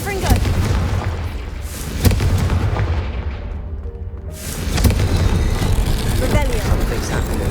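Confringo fire spell exploding in Hogwarts Legacy, a series of sharp booming blasts with crackling bursts, several loud impacts spaced across the scene, with speech among them.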